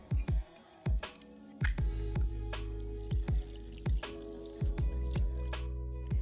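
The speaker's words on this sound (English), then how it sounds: "Grab your artichoke, and you want to drain it of all that excess water because we don't need that." Water drips and splashes in quick irregular bursts as excess liquid is drained from canned artichokes in a kitchen, close and fairly quiet, with soft squishy sounds between the drops.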